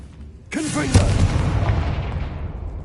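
A Confringo fire spell blast in Hogwarts Legacy: one deep, booming burst that rumbles and fades slowly over a few seconds.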